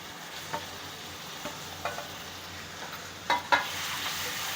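Tomatoes cook in a spice masala with chili powder and coriander powder for a vegetarian thali, giving a soft, steady sizzle with a few scattered stirring scrapes and louder clacks near the end.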